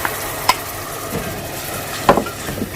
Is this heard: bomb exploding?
no